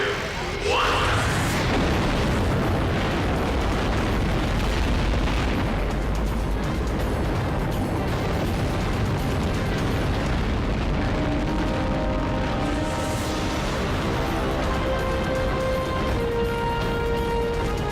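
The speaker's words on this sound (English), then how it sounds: "ignition sequence starts" A rocket's engines ignite at launch with a sustained, overwhelming roar and rumble that sets in abruptly and stays loud and dense throughout.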